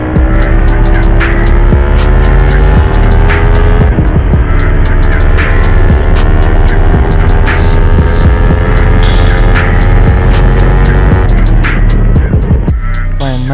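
A Kawasaki Ninja 300 sport bike engine screams at high RPM, a loud sustained whine with climbing harmonic tones, a dip and recovery as gears shift, and sharp ticking clicks over the steady roar, no voices.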